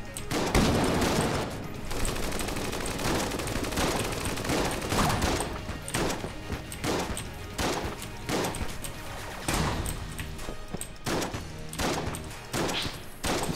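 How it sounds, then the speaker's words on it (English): Rapid gunfire and bullet impacts in Enter the Gungeon, a dense stream of repeated shots with cracks and crashes running through the whole clip. "As long as all the bullets are hitting, I'm fine."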